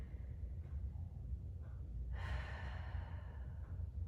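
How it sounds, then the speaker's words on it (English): One slow, deep breath is drawn during a forward-reaching yoga stretch for the lower back, a soft airy inhale and exhale rising midway over a quiet low hum. "take a deep breath here."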